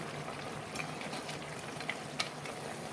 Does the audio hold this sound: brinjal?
yes